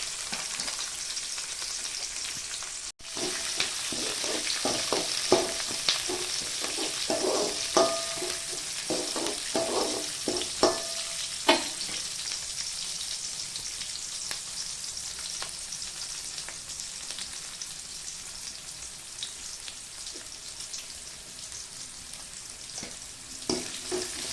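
Onion slices sizzle and fry steadily in oil in a pan, with urad and chana dal, for an elephant foot yam stir fry; a close, continuous crackle with occasional stirring scrapes, no talk.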